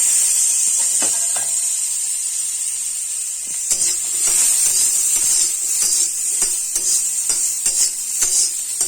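Sweet potato and pumpkin frying in oil with nigella seeds for a toddler's meal: a steady bright sizzle and hiss with scattered clicks and scrapes from stirring in the pan.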